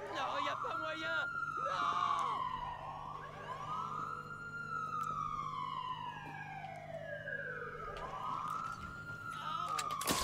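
An ambulance siren in the Watch Dogs 2 video game wails in long rising and falling sweeps, loud and close over engine and street noise, while players talk excitedly over it.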